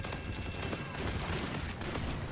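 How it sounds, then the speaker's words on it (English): Rapid gunfire in the shooter game Call of Duty: Infinite Warfare, aimed at a ship, as a dense, continuous crackling burst of shots at moderate distance with no pauses. "This guy is shooting at the fucking ship."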